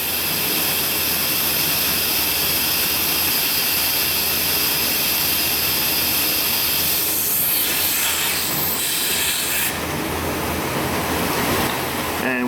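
A mass airflow engine idling with its brake booster vacuum hose yanked off, a loud steady roar and hiss of air being sucked in that shifts slightly near the end.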